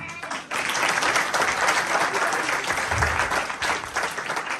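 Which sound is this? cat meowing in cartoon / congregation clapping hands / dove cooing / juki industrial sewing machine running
congregation clapping hands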